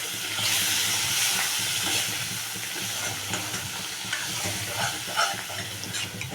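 Spiced red dal with Kolhapuri masala being stirred and mixed in a hot pan, a soft continuous sizzle and hiss with scraping stir strokes, close and steady.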